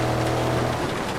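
A severe hailstorm in the Garry's Mod video game makes a dense, loud, continuous hiss and patter of falling ice, with a low rumble beneath and no talk.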